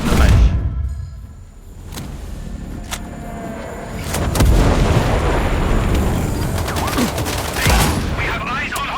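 Mortar fire and explosions in the video game Sniper Ghost Warrior, a dense barrage of booming blasts and rolling gunfire that runs continuously and loudly with heavy low rumble.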